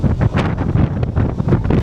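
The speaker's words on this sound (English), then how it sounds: "This is an observation deck on top, and super windy." Strong wind buffets the microphone on a coastal observation deck in northern China, loud low rumbling gusts pulsing without pause throughout.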